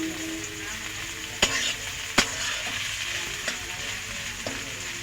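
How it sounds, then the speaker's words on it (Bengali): Onion frying in a pan for chicken curry gives a steady, close sizzle, broken by a few sharp clacks of a utensil against the pan. "পেঁয়াজটা দেওয়া হচ্ছে।"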